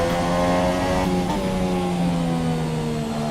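An F1 car engine in the video game F1 2017 on the Bahrain circuit, a steady loud whine that climbs in pitch as the throttle is gradually applied.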